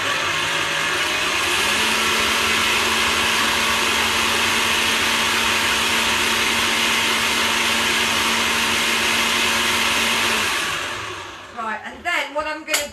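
Electric mixer whipping chocolate cake batter runs in a loud, steady whir with a constant pitch for about ten seconds, then cuts off, followed by a few clattering knocks.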